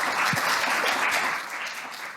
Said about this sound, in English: And another round of applause for Sungmin.